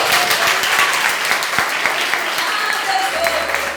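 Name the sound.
congregation applause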